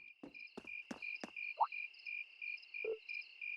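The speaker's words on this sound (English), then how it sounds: "There's a lot of crickets." Crickets chirp in The Legend of Heroes: Trails of Cold Steel video game, a steady pulsing high trill running throughout, broken by several sharp taps and a couple of short hollow knocks.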